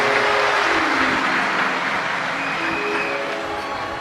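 Loud, dense applause from a large audience welcoming the residents of Vidisha at a Shiv Mahapuran katha gathering, a steady roar of clapping that fades slightly toward the end, with no talk over it.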